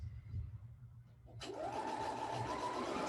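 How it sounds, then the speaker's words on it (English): A sewing machine top-stitches down a piece of fabric, its steady whirring run starting abruptly after a quiet, low-humming moment and continuing evenly to the end. "So I go backwards, forward, put my needle down, and I'm gonna sew all the way"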